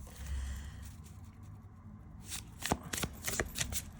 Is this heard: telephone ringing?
no